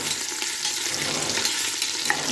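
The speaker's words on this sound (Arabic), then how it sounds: "تاع اللحم بسم الله نخليوه يحمر على الجهه هذه" Pieces of beef sizzle steadily as they brown in a hot pan, a loud continuous crackle and hiss with small pops, close and uninterrupted.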